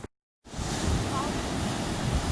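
A river flowing during a hike, a broad steady rushing roar that cuts in after a brief silence and holds constant and fairly loud to the end.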